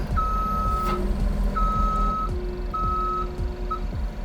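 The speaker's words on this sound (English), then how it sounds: "So now we can hear that the reverse alarm is working" A skid steer's reverse alarm gives several high, steady beeps with short gaps over the low rumble of the idling machine, with no one talking.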